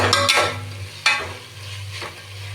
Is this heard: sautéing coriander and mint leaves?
yes